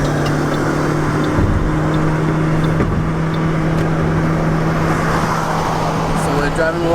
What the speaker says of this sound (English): Now let's see how this accelerates.